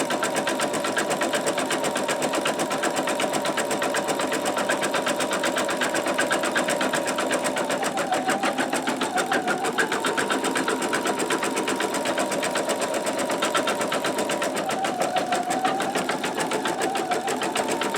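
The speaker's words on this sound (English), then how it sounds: "this is a triple run stitch, so it's doing it 3 times instead of just a single run stitch" An embroidery machine running a triple run stitch with a magnetic hoop hums and chatters in a fast, steady, even rhythm, close and continuous throughout with no voices.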